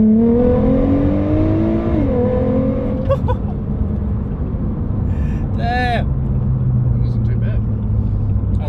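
A bagged 2008 Nissan R35 GT-R roars through a hard 0 to 100 launch from inside the cabin, its rising engine note climbing through gear changes with a brief shift pause, loud and continuous throughout.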